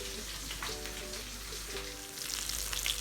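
A potato sandwich fries in a pan with a steady, close sizzle and crackle running continuously throughout.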